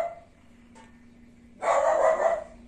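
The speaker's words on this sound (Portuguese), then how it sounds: "meu cachorro achou um gato lá." A dog chasing a cat barks in a burst of loud, rough yelps after a quiet stretch of faint background hum, fairly close by.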